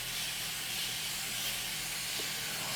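A Curlsmith hair product is sprayed from a spray bottle as one continuous close, airy hiss that lasts the whole moment without a break.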